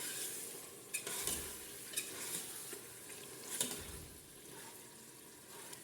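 Beef pieces frying in a pot for a beef stew, with a steady soft sizzle and a few louder scraping stirs spread through the clip. No voices.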